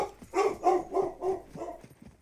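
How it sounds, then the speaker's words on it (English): A dog barks in a steady run of five or six loud, close barks at an even rhythm, with no voices over it. "I have two dogs, and one of them is a little barker"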